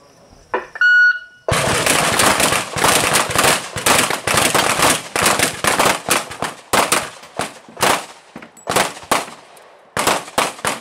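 Revolver shots at a pin shoot, an outdoor competition: a rapid string of loud sharp cracks in quick succession, followed by scattered spaced shots, after a brief beep at the start.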